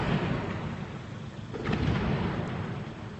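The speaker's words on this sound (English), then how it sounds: "Really loud explosion there." A deep, heavy explosion booms in the distance in the Sur district of Diyarbakır, rising briefly before fading into a low roar.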